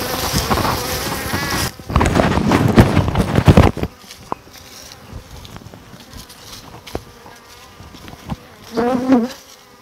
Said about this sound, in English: the bees are going to become more aggressive, and so many will keep on stinging onto the pan